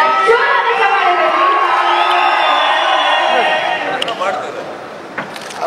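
Loud crowd cheering and clapping at the Kannada film audio launch of Preethiya Raayabhari with Kiccha Sudeep and Arjun Janya, a dense sustained roar of whoops and shouts that eases slightly toward the end.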